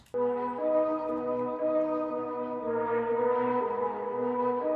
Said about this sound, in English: Great sounding flutes. They're like wind-based instruments